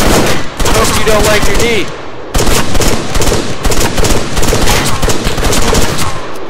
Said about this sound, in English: Where is everyone shooting at me from?